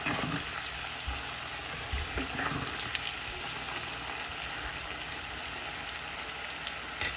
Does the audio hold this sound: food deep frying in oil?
yes